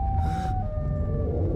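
A Siren Head siren sound effect plays during a Hulk versus Siren Head toy skit. A sustained wailing tone holds over a dense, noisy rumble, loud and close for the whole short stretch.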